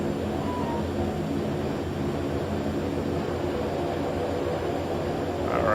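Simulated Pilatus PC-6 Turbo Porter turboprop engine in X-Plane 11 throttling up for takeoff, a steady loud droning roar holding throughout and swelling slightly at the end.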